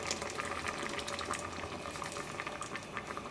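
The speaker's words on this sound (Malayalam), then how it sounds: "ഈ കറി നന്നായിട്ടൊന്ന് തിളക്കട്ടെ." A pot of curry with ground coconut boils steadily on the stove, a dense continuous bubbling and popping close by with no voices over it.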